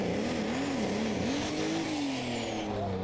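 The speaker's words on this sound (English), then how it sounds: "Engine RPM you can hear going up" A pulling tractor at a tractor pulling competition in Brande, Denmark, revs with a wavering engine note that climbs and dips, then rises steadily, heard from a distance under a broad roar of noise.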